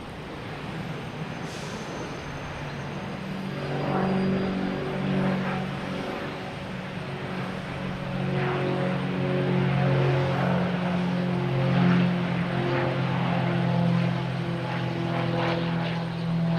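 An Airbus A321 arriving from Orlando lands at Boston Logan Airport, its engine roar and whine swelling from moderate to loud, droning steadily with no one speaking.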